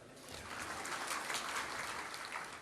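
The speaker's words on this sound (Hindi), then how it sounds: "महिलाओं के लिए पुरुष लोग ताली बजा लो" An audience at a spiritual discourse claps together in a soft, dense patter of hands, steady and fairly distant, with no voice over it.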